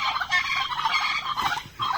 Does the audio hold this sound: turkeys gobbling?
yes